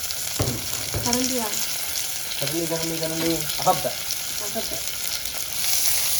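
Small onions and green chilies fry in a hot pan for a fish curry, giving a steady broadband sizzle throughout with a few clinks and brief speech over it.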